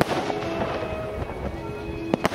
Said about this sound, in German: 13 Schuss, die 5 Schuss abwechselnd mit goldener Leuchtspur